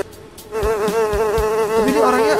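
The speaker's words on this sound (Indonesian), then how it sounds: "begini tuh rasa hidup jadi lalat" In a fly simulator video game, a close, loud fly buzz starts after a brief quiet moment and drones on steadily, rising and falling slightly in pitch as the insect flies.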